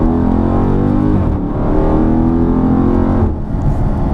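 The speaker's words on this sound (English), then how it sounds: "Now that was a first gear pull, and it's decently wet outside." A Dodge Charger Scat Pack makes a first-gear pull on a wet road on Atturo AZ850 tires, its engine loud and close with a steady rising roar that briefly dips once and then comes back strong.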